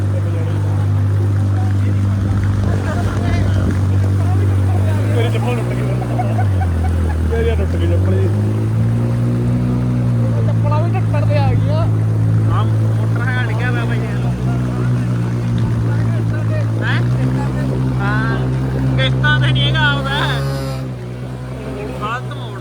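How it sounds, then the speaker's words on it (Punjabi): A motorcycle engine runs steadily while being ridden through floodwater at the Mansa bus stand; a loud, close drone with shifting revs continues throughout, with people talking over it. "ਆਪਣਾ ਮੋਟਰਸਾਈਕਲ ਤਗੜਾ ਰਹਿ ਗਿਆ ਜਿਹੜਾ ਬੰਦ ਨਹੀਂ ਹੋਇਆ"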